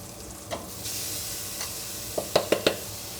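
Chopped onion and barley sautéing in butter, a soft even sizzle overlaid by a few sharp spoon knocks and scrapes against the pan toward the end.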